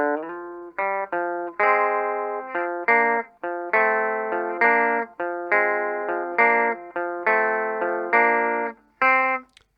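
Electric guitar plays a rockabilly riff from a song, a steady run of punchy single notes and short slides in a bouncing rhythm, close and alone with no talking.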